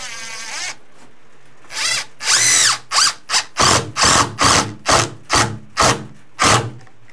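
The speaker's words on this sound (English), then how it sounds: "then you can put your screws in." Power drill driving screws into a steel pre-hung door frame, a whirring spin-up followed by a run of short, repeated loud bursts in steady rhythm, close and alone without talk.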